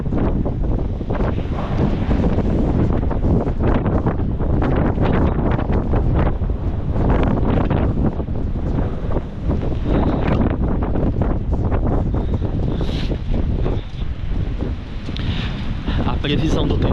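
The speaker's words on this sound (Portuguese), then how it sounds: "vocês estão conseguindo ouvir o vento?" Strong wind on a stormy day in Russia roars steadily into the microphone, a loud, close, unbroken rushing buffet with gusty surges that lasts the whole stretch.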